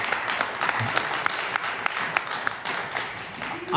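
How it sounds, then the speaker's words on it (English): A crowd applauds steadily at a live debate, a dense wash of clapping heard from within the room, fairly loud and sustained throughout. "can we give him a round of applause?"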